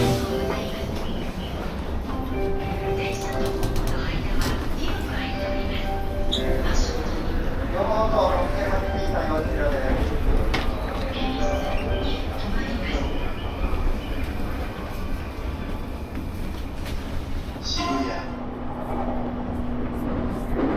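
Riding inside a Japanese train: a steady, even rumble of wheels and carriage noise fills the whole stretch, with soft, indistinct voices faintly under it.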